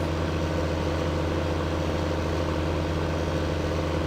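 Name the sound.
tractor engine in video game Farming Simulator 15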